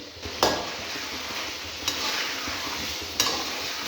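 Kalonji, fennel and fenugreek seeds being stirred in a hot pan for achari chicken, a continuous soft sizzle with three sharp utensil scrapes spaced over a few seconds, close up and without speech.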